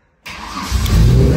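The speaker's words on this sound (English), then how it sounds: "got a bit of a faulty starter motor situation" A Holden VY Calais with a faulty starter motor cranks and fires up after a short silence, the engine catching and settling into a loud, steady idle close by.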